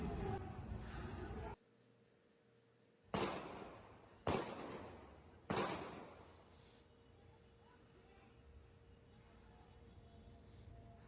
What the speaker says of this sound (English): a male suspect firing a handgun as well as bullets whizzing past him